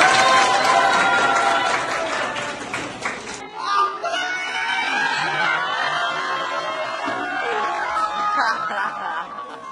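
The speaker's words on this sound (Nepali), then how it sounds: "आफ्नो लागि ताली बजाइदिनु न।" Students in a classroom clap for themselves in a brisk, packed burst lasting a few seconds, then it cuts off into chuckles, murmured chatter and a few leftover claps.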